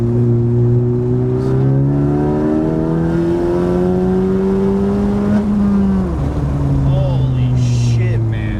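A 10th gen Honda Civic Si with an upgraded turbo accelerates hard, its loud engine note climbing steadily through the revs, dipping at a shift and then climbing again, with turbo whoosh and a person's voice over the engine.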